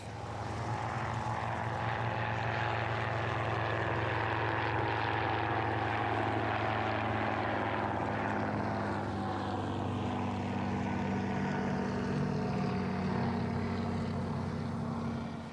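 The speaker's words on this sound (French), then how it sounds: "il était propulsé par un moteur à 12 cylindres Rolls-Royce Falcon de 190 chevaux" A First World War aircraft powered by a 190-horsepower Rolls-Royce Falcon 12-cylinder engine flies at the Duxford airshow, its steady droning roar sustained evenly throughout, swelling slightly with a shifting pitch as it passes.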